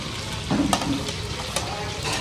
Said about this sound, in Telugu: ఉల్లిపాయ, పచ్చిమిర్చి కూడా వేసేస్తున్నాం ఇందులో.